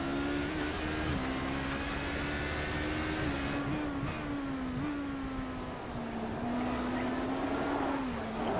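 Race car engine droning steadily with pitch wavering and dipping as the car spins out through the Tosa corner at Imola in an iRacing ProtoGT sim race, continuous and fairly loud with no talk.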